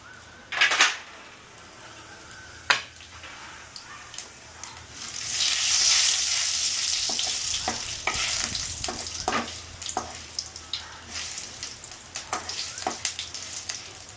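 Whole cumin seeds hit about a tablespoon of hot oil in a pan for a Bengali katla fish curry, giving a close, bright sizzle that swells and then settles, with sharp clinks of a utensil against the pan.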